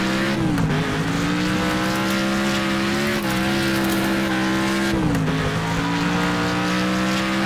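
A racing car in the video game Next Car Game drives with a loud, steady engine drone, its pitch dipping and rising through gear changes, while tire squeal and skidding come and go under the noise.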